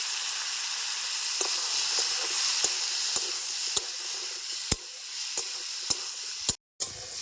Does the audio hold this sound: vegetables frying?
yes